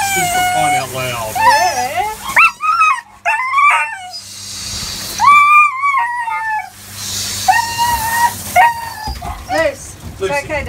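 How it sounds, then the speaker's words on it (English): Close, loud howling and crying from a husky dog, repeated rising and falling wails with short whimpers between them and a person speaking gently over parts of it. "Your husky is crying out loud."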